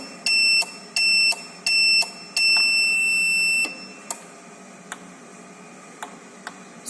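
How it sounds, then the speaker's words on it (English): A buzzer driven by a PIC 18F4520 microcontroller gives four shrill electronic beeps, the last held longer, followed by a series of faint regular clicks. "So you can hear the buzzer,"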